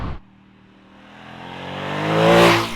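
Ducati Monster SP motorcycle being ridden, its engine note rising steadily from a low idle-like hum into a louder accelerating drone that swells over a couple of seconds, with no talk.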